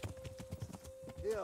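Horse hooves clip-clop steadily along a path in Kingdom Come: Deliverance, a regular rhythm of soft thuds heard beneath someone speaking throughout.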